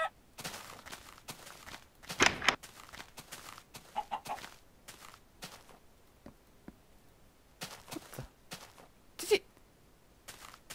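Clucking from a chicken in the block-building game Minecraft, scattered short clucks and clicky footsteps spread across a quiet stretch, with a few louder bursts and a voice heard now and then.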